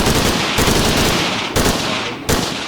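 Rapid, loud gunfire from the shooter game Redwave 2 pounds armored enemies, a continuous dense stream of shots broken by a few brief pauses, with no talk.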